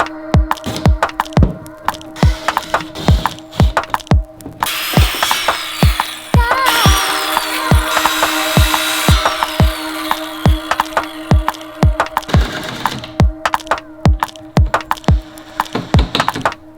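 Power saw cutting through wooden table legs, with loud rapid repeated strikes and rasping over a steady motor drone, then a longer continuous cutting passage in the middle, close and harsh.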